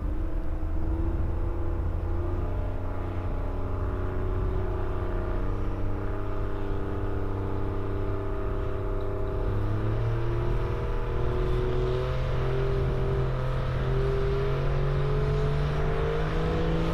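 Diesel Pro Mod truck making a drag racing pass at a truck fest, its tires spinning: a steady, heavy engine drone with gliding harmonic tones that rise gradually, loud and continuous throughout with no talk.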